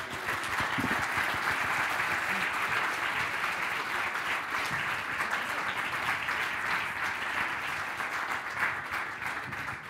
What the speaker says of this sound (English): je vous invite à applaudir avant et après la conférence, évidemment, Saskia